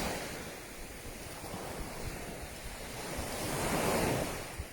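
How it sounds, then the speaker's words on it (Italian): Sea waves wash against the shore in Sardinia at sunset, a steady rushing surf that swells louder toward the end, with some wind buffeting the microphone and no voices. "Però sentite il rumore del mare"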